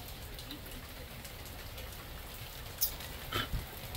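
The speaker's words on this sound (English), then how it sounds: "boring rainy day here in Western Mass." Steady rain on a dull day in Western Massachusetts, a soft continuous patter of drops on surfaces, with a couple of brief sharper knocks near the end.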